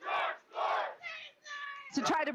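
A protest crowd in Los Angeles shouting, several loud chant-like bursts of massed voices in short rhythmic phrases, fairly near.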